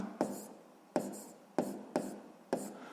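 Pen writing numbers on paper during a sixth-grade maths exercise, five short scratchy strokes at a steady pace, close and quiet.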